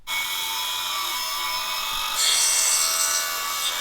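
A metal extension piece is cut with a harsh, continuous grinding rasp that runs close and loud throughout, growing brighter and more intense partway through.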